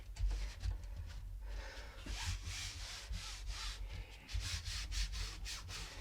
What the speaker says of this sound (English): And make sure that I rub that all over as well on that back.